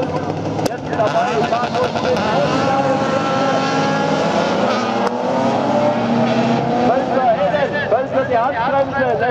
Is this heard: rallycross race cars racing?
yes